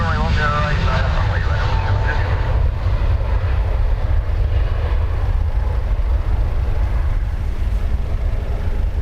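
Ryanair airliner lining up on a runway at Dublin Airport, a steady loud engine rumble with broad low roar throughout, heard alone at a distance.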